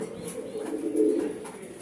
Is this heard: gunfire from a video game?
no